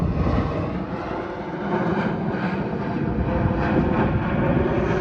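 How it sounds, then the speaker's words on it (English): A fixed-wing airplane flies overhead near Van Nuys airport, its steady engine roar filling the air throughout and swelling slightly as it passes, with no talk over it. "Look at that plane."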